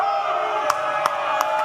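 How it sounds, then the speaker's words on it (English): A wrestling arena crowd jeers and boos in a sustained roar, broken by a few sharp claps or smacks. "Crowd's letting him have it tonight."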